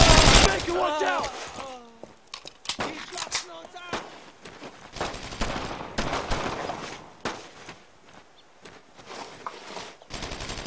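Gunfire from the World War II shooter Brothers in Arms: Road to Hill 30, with bursts of automatic weapons and scattered shots crackling across the scene, mixed with shouted squad voices and distant rattles, fairly loud throughout.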